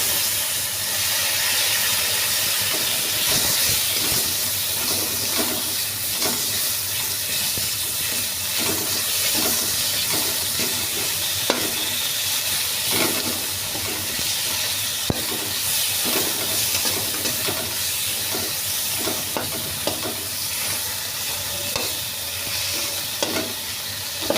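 Tomatoes and chopped green chillies fry in a pan for potol ghonto, giving a steady close sizzle and hiss with occasional stirring scrapes throughout, no talking.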